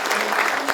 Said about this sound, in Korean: 금호공대 아닌 분들 우리가 박수 한번 보내주십시오